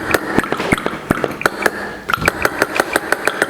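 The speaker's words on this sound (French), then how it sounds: "Et vous voyez, le moteur se remet en route, tranquillement." A small model heat engine, lit by a flame, restarts and settles into running, giving a steady series of sharp, evenly spaced clicks and knocks over a low mechanical hum, close by.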